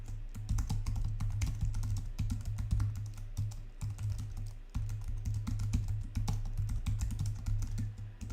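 Steady, close typing on a computer keyboard as a headline is written, a dense run of quick key clicks with a brief pause midway and no talking.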